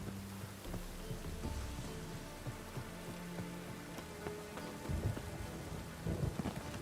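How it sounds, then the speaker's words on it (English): Steady rain with low rumbling thunder in a video game storm, a dense continuous patter with occasional heavier drops and soft booms, faint and with no voices. "A storm, damn it."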